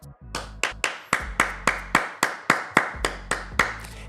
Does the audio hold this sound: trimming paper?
no